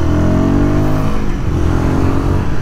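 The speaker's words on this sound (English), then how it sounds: "this motor, look at this, it does, even in the first gear, it is so hesitant, so reluctant" A Royal Enfield Guerrilla 450 motorcycle engine revs hard in first gear, loud and close, its pitch climbing, then dipping briefly before pulling again.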